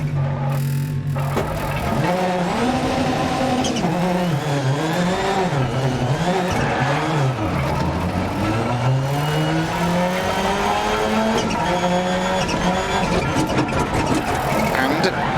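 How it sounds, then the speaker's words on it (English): A 2001 Ford Focus RS rally car engine in Dirt Rally 2.0 on a forest stage in Spain, loud and continuous, revving up and down through gear changes with an engine fault, while a co-driver reads pace notes over it. "It looks like we've got an engine issue."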